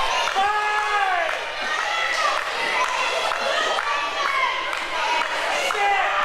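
A wrestling crowd at a women's match cheers and shouts, with many high excited voices, including children's, rising in overlapping whoops and calls over a continuous roar.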